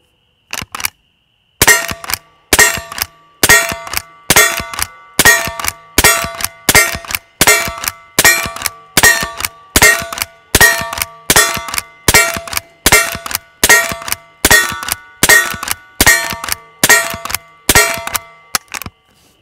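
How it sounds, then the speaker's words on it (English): A Henry H001 .22 lever-action rifle is worked and fired through a tube of .22 shorts, giving a steady run of about twenty sharp, metallic cracks, each paired with the clack of the lever cycling, loud and close. "We'll just run through them real quick and see how it cycles."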